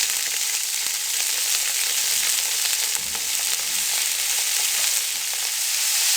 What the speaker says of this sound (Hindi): अब इसमें बंद गोभी डाल देंगे।